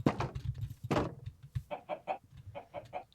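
A Minecraft chicken clucks in a string of short, close, moderately loud clucks with a rhythmic pattern, heard clearly on its own.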